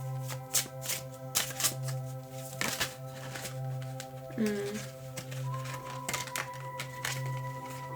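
Tarot cards are shuffled up close in repeated crisp riffling bursts during a reading, with a steady hum and tonal background underneath and a person talking across the clip.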